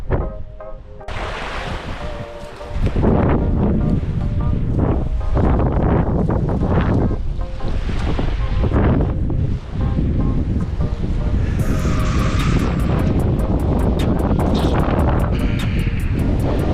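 Ocean waves break and surge in strong wind on an exposed coast, with loud buffeting wind noise on the microphone and continuous rushing surf.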